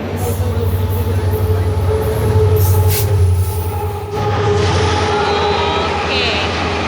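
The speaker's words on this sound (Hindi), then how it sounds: "ये ट्रेन पास होने वाली थी, इस वजह से हमारी विस्टाडोम रुकी हुई है।" An Indian Railways train passes close by a halted Vistadom tourist train between NJP and Alipurduar, a loud continuous rumble of wheels and carriages with squeals and clatter, easing briefly before rolling on.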